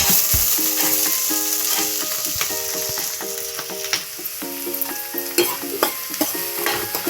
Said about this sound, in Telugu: ఇప్పుడు ఉల్లిపాయలు వేసేసుకుందాం.